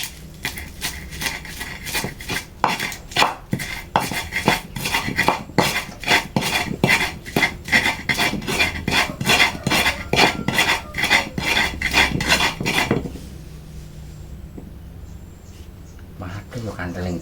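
Garlic pounded in a stone mortar with a pestle, rapid rhythmic grinding and knocking strokes for about thirteen seconds before stopping, with people talking nearby.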